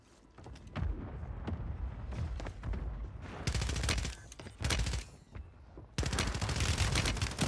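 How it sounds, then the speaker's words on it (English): Rapid bursts of automatic gunfire in Warzone 3 on Rebirth Island, with an AMR 9 among the guns, crack out in loud, dense volleys separated by short pauses, the final burst sustained and heavy. "He's trying to shoot me still"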